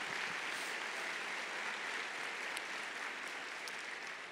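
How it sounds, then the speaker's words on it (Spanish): A church congregation applauds during a sermon, a faint, steady patter of many hands clapping that carries on evenly throughout, heard alone and with no talk over it. "Dale un fuerte aplauso al Señor."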